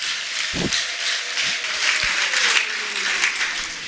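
A church congregation applauds during a sermon, filling the space with a continuous, fairly loud wash of many hands clapping, along with a few lower thumps.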